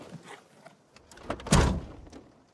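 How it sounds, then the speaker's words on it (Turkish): A car door shuts with a single solid thunk near the middle, preceded by faint rustling and small handling noises, no talk. "Niye kapıyorsun kapıyı ya?"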